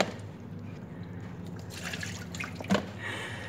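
Pepsi is poured out in a steady fizzing trickle with a few louder splashing drips, fairly quiet and heard alone.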